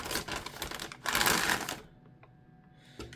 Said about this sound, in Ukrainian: всередині нас зустрічає карта в такому антистатичному пакеті. От, е, одразу її з нього дістанемо.